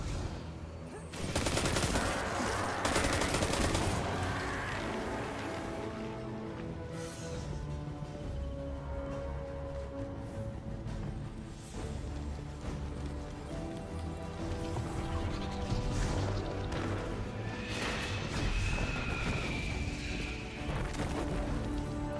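Ongoing shooter-game gunfire mixed into a dense, busy soundtrack of music and effects, steady and fairly loud for the whole stretch, with little talk.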